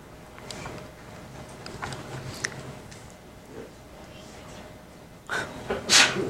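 A sudden sharp sneeze bursts out near the end in a quiet classroom, after several seconds of faint rustling, breathing and scattered small noises.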